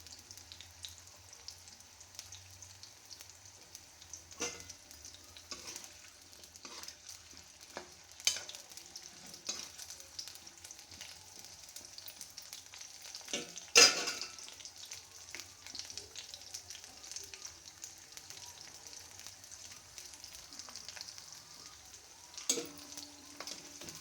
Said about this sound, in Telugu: బాగా వడబడేటట్టు పకోడీ వేయించుకున్నట్టు వేయించుకోవాలండి ఇట్లా